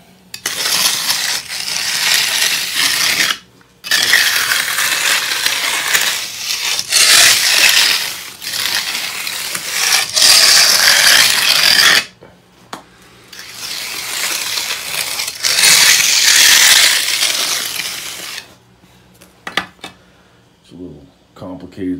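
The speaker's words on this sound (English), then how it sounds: "after I use this nice flat smooth trowel, this will flatten it right out" A flat smooth trowel scrapes over a freshly poured concrete basement floor in long gritty sweeps, several loud close passes separated by short pauses, with a voice speaking over parts.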